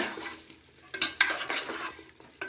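A spoon scrapes and stirs through chicken gravy as coriander powder is mixed in, giving a few close, distinct clinks and swishes against the pan, with no talking.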